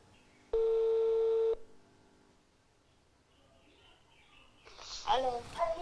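A single long telephone tone sounds clearly for about a second while a call is placed, followed by quiet room noise and faint voices toward the end.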